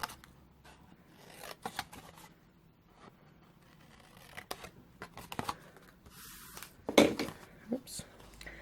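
Scissors snip through card stock, cutting along score lines to shape the tabs and squares of a double exploding box craft project, with scattered close crisp cuts and a sharper burst near the end amid quiet handling.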